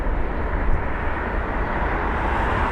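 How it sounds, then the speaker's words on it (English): A Singapore Airlines Airbus A380 passes overhead at London Heathrow, a steady broad jet roar that holds loud and even throughout with no voices. "capture the Singapore Airlines A380. Just crossing the shot now."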